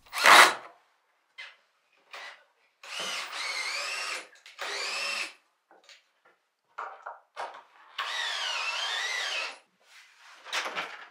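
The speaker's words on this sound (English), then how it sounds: "Here you can see again how I use the screw for drilling." Power drill driving screws into a mahogany window frame, heard as several separate bursts of whirring, some with rising and falling motor pitch, spaced by short pauses and light handling knocks, close and moderately loud.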